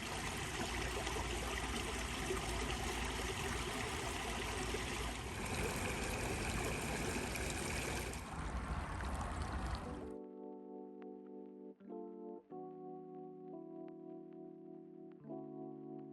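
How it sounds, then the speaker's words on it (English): Small streams of running water on a hiking trail trickle and splash steadily and fairly close for about ten seconds, then stop abruptly, leaving only faint tonal background sounds. "There's like 2 little streams running through here"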